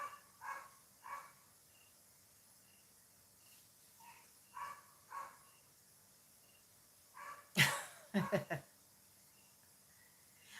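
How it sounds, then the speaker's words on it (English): A dog named Slim barks faintly in the distance in short, scattered pairs of yelps over a steady chorus of crickets in a quiet night setting. "Dang, that dang Slim is still barking."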